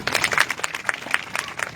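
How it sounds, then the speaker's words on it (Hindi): A crowd at a state-level tribal cultural gathering in Chadoli applauds for a sixth-grade girl, uneven claps rising and falling in loose bursts, fairly close and moderately loud. "इस बेटी के लिए ताली बजाइए आप"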